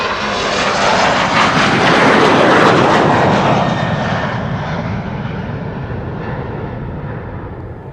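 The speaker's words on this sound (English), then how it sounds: "the third airplane to take off is an Embraer 170" An Embraer 170 jet airliner takes off at Amsterdam Schiphol Airport, its engine roar loud and broad, swelling to a peak and then slowly fading as it climbs away.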